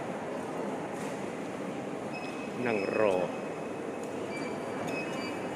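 Inside Vang Vieng railway station in Laos, served by EMU trains, a steady low hum of the hall fills the space, and a person speaks briefly midway.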